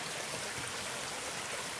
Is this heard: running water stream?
yes